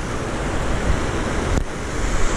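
Floodwater pours over a spillway in a loud, steady broadband rush, close and continuous with no voices.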